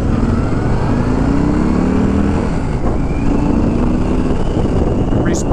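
A 2021 Harley Davidson Sport Glide motorcycle on the road gives a loud, constant engine rumble close by, with pitch shifting as it moves, wind noise mixed in.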